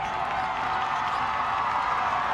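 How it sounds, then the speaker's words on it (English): A basketball crowd at Lynn Cottrell Arena in Dahlonega during a close late-game college matchup, making a steady, dense roar of voices and cheering throughout. "The crowd at Lynn Cottrell Arena is getting loud"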